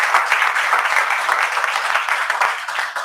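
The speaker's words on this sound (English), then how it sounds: "big applause." An audience at a surgeons' meeting applauds, a steady dense wash of many hands clapping together that holds evenly throughout, close and fairly loud.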